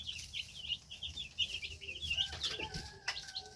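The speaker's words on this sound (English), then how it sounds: "They are funny little birds." Young meat chickens cluck and cheep in a busy flock, with rapid high chirps running throughout and some wing flapping, heard close with no talking.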